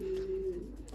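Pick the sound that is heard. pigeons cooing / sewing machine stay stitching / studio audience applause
pigeons cooing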